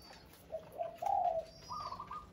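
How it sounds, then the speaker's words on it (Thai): A wild zebra dove coos from near the top of a utility pole by a tree, a few soft rolling calls, faint and somewhat distant, with no talking. "เสียงนกป่าน่าจะอยู่ตรงหัวเสาไฟที่ต้นคูนใกล้ๆเลยครับ"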